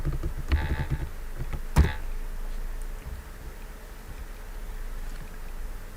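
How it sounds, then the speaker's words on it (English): A few quick clicks and keystrokes at the start, with one sharper tap near two seconds, followed by a low steady background hum. "and I'm typing the password."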